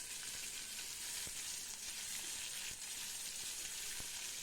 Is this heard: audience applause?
no